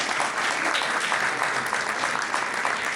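An audience at a lecture on historical daguerreotypes applauds Ercilia Galiuzzi with steady, dense clapping that holds evenly for several seconds without talk over it.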